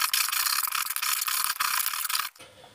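An abrasive roller scours a metal section of a two-stroke expansion-chamber exhaust before welding, making a close, continuous harsh rasping grind that stops abruptly near the end.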